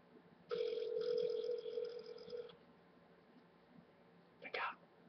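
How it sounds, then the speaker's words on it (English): Telephone ringing on speakerphone, one long buzzy ring tone followed by a brief second burst, faint and tinny. "It's ringing."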